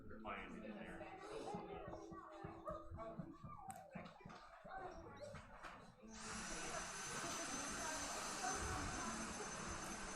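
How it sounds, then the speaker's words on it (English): A vacuum cleaner sucks talc off a powerlifting platform at a national championship, a steady whining drone starting after several seconds of commentators talking with crowd noise in the background. "They're just vacuuming up the... Talc on the platform."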